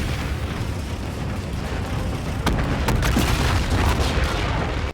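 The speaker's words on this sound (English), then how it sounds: "You destroy the last enemy carrier with an orgasmic explosion and start heading back to base" Explosions rumble in Call of Duty: Infinite Warfare as an enemy carrier is destroyed, a loud sustained roar with sharp crackling bursts partway through, no talking.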